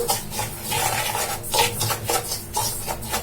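Semolina and salt stirred together in a mixing bowl, the utensil scraping and clinking against the bowl in quick, steady strokes, close and fairly loud with no talking.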